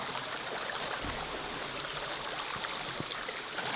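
A Millbank canvas filter bag being soaked in water, producing a steady, dense wash of trickling and sloshing water throughout, close and continuous, with no speech.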